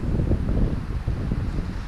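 Steady mountain wind at Abraham Lake buffeting the microphone, a continuous low rumble with gusty fluctuations and no voices.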